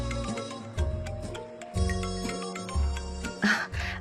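A mobile phone ringtone playing in an office, a repeating melodic electronic tune with sustained tonal notes and rhythmic pulses, moderately quiet, no talking over it.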